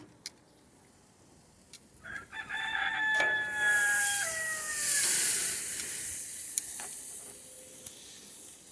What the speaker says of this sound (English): Yeah, they got at least one rooster.